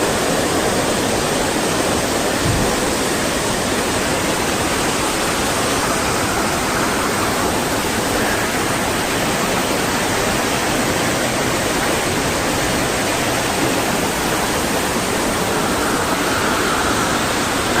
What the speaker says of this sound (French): dans les gorges de la Caranca, qui est le nom de la rivière là